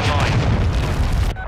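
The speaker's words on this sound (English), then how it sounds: "Hostile cruise missile incoming." A cruise missile blast in the video game Modern Warfare 2: one loud, deep, rumbling boom that fills the moment and cuts off abruptly.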